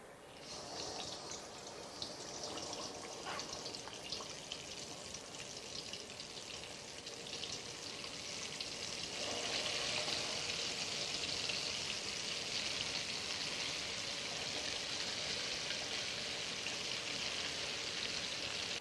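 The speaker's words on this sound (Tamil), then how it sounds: "இப்போ நெய் நல்லெண்ணெய் நல்லா சூடாயிருக்கு இந்த பேஸ்ட் எடுத்து அதில் போட்டலாம்" Amla paste frying in hot ghee and sesame oil, a steady dense sizzle and crackle throughout that swells louder about halfway through, with no talking.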